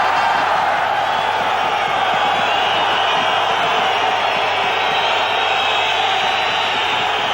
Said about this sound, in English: The crowd is giving Derek Bevan a tough time here.